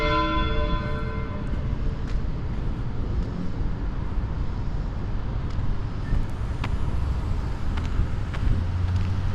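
A town bell rings out while walking the streets of Tuskegee, Alabama, its tones hanging briefly before fading into steady traffic and street noise, with no one speaking.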